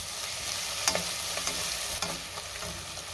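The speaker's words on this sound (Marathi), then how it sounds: "आता आपल्याला ह्यामध्ये आलं लसणाची पेस्ट घालायची आणि पुन्हा 2 मिनटं चांगलं परतून घ्यायचं आहे" Ginger-garlic paste sautéing with onions in a pan for masoor pulao, a steady sizzle with a few scraping stirs of a spoon, close and continuous with no talking.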